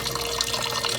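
Water running from a tap into a container to make an ice bath for freshly harvested goat's milk, a steady close splashing and trickling that continues alone throughout.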